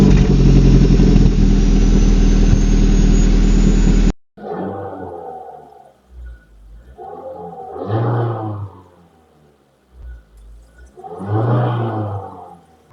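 Car engine recorded with the microphone right next to the exhaust, a loud dense roar for about four seconds that cuts off, then three rising and falling revving bursts with rough throaty exhaust noise between quieter lulls.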